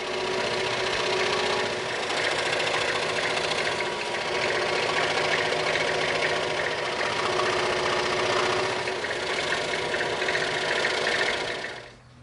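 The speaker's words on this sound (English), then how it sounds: "we're going to cut this handle out on the scroll saw" Scroll saw cutting a 36 mm thick EVA foam sheet, a continuous fast mechanical buzz with a rapid reciprocating hum that runs steadily and then winds down at the end, no voices.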